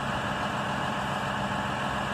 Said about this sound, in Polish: Tym razem John Deere 6150M. Ciągnik z 2013 roku.